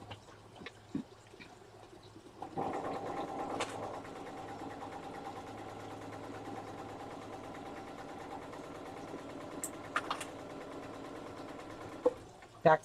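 A sewing machine back stitching on a botanical quilt, its motor humming at a steady, close drone for about ten seconds, then stopping, with a few faint clicks before and after.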